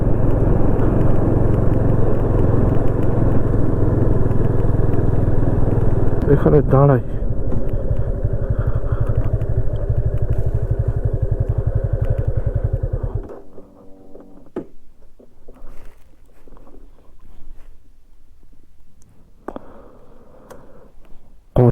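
A vehicle engine drones loud and close along a forest road near Murguma Dam in Purulia, holding steady for about thirteen seconds before cutting out, leaving quiet surroundings with a few faint noises and brief speech.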